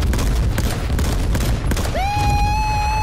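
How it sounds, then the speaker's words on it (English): An airstrike missile barrage in the video game H1Z1 Battle Royale, a dense run of loud booming impacts and crackling blasts with a rising then steady whistling tone near the end. "A missile barrage"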